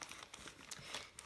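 Soft, close crinkling and rustling of plastic wrapping as a parcel from Russia is opened, in a few light irregular bursts at low volume.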